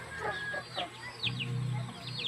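A chicken clucks in short, scattered bursts at close range, a few quick calls breaking over a quiet background with no talking.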